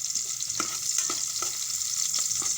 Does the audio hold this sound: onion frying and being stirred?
yes